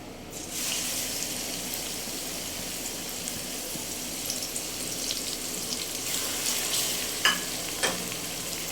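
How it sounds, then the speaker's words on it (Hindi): Onions and whole spices fry in a pan with a steady, soft sizzle close up, and a couple of sharp clinks of utensils come near the end. "तो इनको हम थोड़ा सा फ्राई करके तो फिर इसमें प्याज शामिल करते हैं।"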